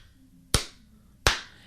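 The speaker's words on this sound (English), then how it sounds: "they suggested either doing like a clap like this" Two sharp, loud hand claps used as a sync marker, spaced about three quarters of a second apart, each with a short decaying ring in a quiet room and no voices.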